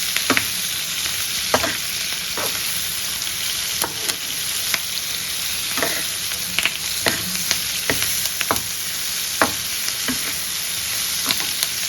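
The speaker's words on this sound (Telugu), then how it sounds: "ఇప్పుడు ఫ్రెష్ కరివేపాకు కొంచెం వేసుకోండి. వేసుకొని బాగా కలుపుకోండి." Fresh curry leaves stirred into capsicum pickle frying in hot oil, a steady loud sizzle with repeated scraping strokes of a spoon against the pan throughout.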